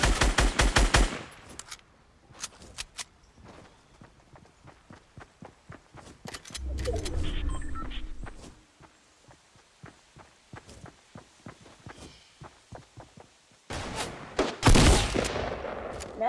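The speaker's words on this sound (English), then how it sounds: "Now I have my Scar and my hand cannon." Gunfire from a SCAR assault rifle and a hand cannon in the video game Fortnite: rapid bursts and single heavy shots spread across the scene, broken by quick running footsteps and a few louder close volleys.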